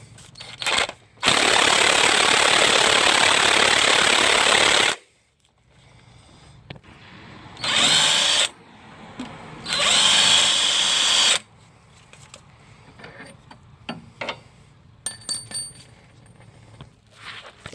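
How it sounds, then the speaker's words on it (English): An impact wrench with a 14 mm socket spins a long engine bolt on a 2014 Kia Soul 2.0L GDI during engine removal, giving three loud close bursts of whirring rattle, the first about four seconds long, separated by quiet pauses and small clanks. "you're going to need an impact. I got a 14 here. Really long bolt."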